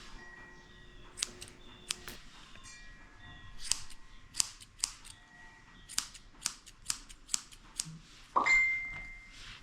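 Grooming scissors snip hair from inside a senior poodle's mouth in a series of crisp, close clicks, irregular at first and then in a quicker rhythm, followed by a brief louder rustle at the end.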